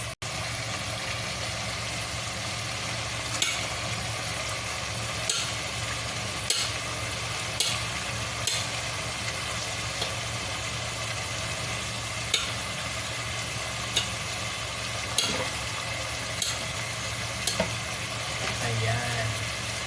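Garlic, ginger and onion sauté in a pan for chicken tinola, giving a steady close sizzle broken by regular clacks and scrapes of stirring; a low engine-like rumble sits underneath.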